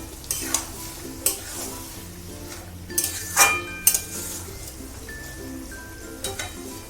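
Jhinge aloo posto, ridge gourd and potato in poppy seed paste with mustard oil, being stirred in a pan: a soft sizzle under repeated scraping spoon strokes and metallic clinks against the pan, close and fairly loud, with no talking.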